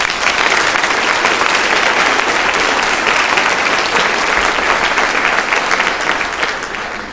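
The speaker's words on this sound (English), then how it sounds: "How about a round of applause for our sponsors listed?" Sustained, dense applause from a large audience at a high school scholarship awards night, steady and loud throughout before easing slightly at the end.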